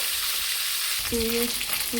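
Fish frying in hot oil for a Bengali fish curry, giving a loud, constant hiss and crackle close by, with a brief tonal squeak partway through.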